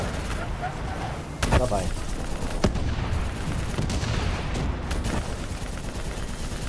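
Black Ops 3 video game gunfire, dense rapid bursts and booming shots over a constant loud battle din, with someone talking briefly.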